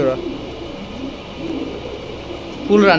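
A pair of red Danish pigeons coo softly nearby in low, murmuring calls, with a louder burst of sound near the end.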